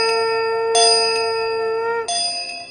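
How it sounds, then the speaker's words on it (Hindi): Temple bells ring out as a sound effect, two bright metallic strikes roughly a second apart, each leaving a long shimmering ring that hangs in the air with no voices. "घंटियां गूंजती"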